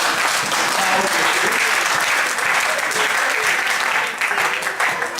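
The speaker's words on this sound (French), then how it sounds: "On peut acclamer pour cette pensée." A church congregation bursts into loud, sustained applause and acclaim, dense clapping filling the room with crowd voices mixed in, holding steady before easing slightly near the end.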